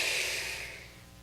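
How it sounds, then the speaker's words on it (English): A group breathes in together during a guided relaxation session, a single long, soft airy inhale that fades gradually, fairly close and with no talking. "Hands down, nice deep breath."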